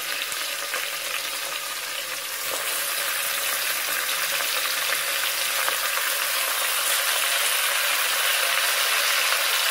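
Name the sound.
chicken frying with sautéed onions in a pan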